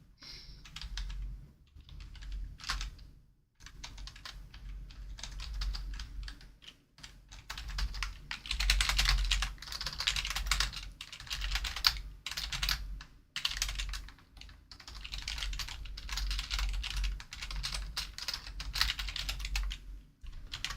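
Fingers type on a computer keyboard in fast, uneven bursts of clicking keystrokes, with short pauses between runs, close and clear with no talking.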